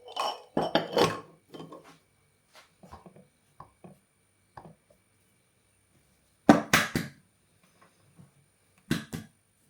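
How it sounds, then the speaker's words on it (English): Eggs cracked against a bowl holding flour and salt for homemade ravioli dough: sharp close taps and clinks in a few separate clusters with quiet gaps between them. "And then literally just crack my eggs in."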